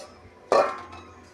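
A metal lid set onto a cooking pot of Bengali greens and fish roe makes a single close clink with a short ringing tail, otherwise quiet.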